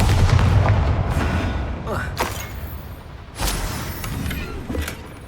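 A loud Bombarda blasting-spell explosion in Hogwarts Legacy, a heavy boom that opens the sound and decays, followed by further thuds and debris-like hits.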